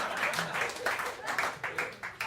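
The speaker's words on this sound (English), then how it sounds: "You see how all the poor people are clapping?" A comedy show audience claps steadily and fairly loudly, dense applause filling the room with rolling swells and no talk on top.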